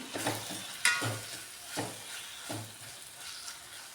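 Tomato and spices sautéing in oil for a Maharashtrian potato rasa curry, with soft stirring scrapes recurring every second or so over a quiet background sizzle, no voices.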